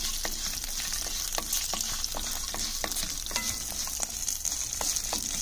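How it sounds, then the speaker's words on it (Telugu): Green chillies and a few garlic cloves fry in a pan, a steady close sizzle broken by repeated sharp spatula taps and scrapes as they are stirred, with no voices. "పచ్చిమిర్చి ఇప్పుడే 2-3 రెబ్బల వెల్లుల్లి వేసుకొని మంచిగా వేగనివ్వాలి."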